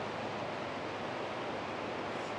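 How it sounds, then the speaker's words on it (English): A river flows below a balcony in Leavenworth, a steady, even rush of water that holds close and constant throughout with no voices over it. "And also sounds, like river sounds. It's so soothing, so tranquil."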